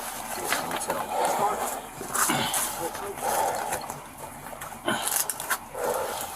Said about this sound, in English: And then there's a dog.